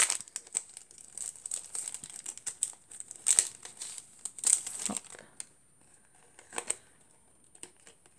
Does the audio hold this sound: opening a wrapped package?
yes